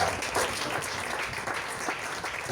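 A church congregation applauds in praise during a worship service, giving a dense, steady wash of clapping from many hands that holds at an even level throughout.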